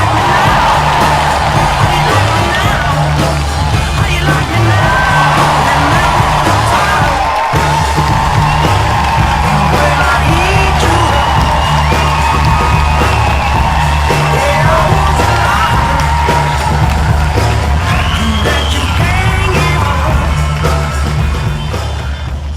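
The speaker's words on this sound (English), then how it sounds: "He just gets the biggest cheer every time" A circus big top audience cheers for a flying trapeze act, a loud sustained crowd roar of yells and whoops that holds steady for over twenty seconds, with occasional bangs.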